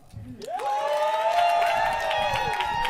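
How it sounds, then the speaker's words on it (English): A crowd at an outdoor barbecue cook-off event cheers and whoops for a contestant, a sustained rising shout with loud voices over scattered clapping. "If you think Rodney won, clap it up."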